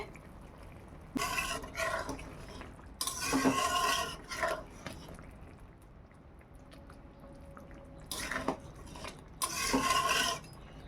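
Clattering metal and lid sounds from a cooking pot of prawns being uncovered, several bursts of clinks and rattles over a quiet simmer, close and moderately loud.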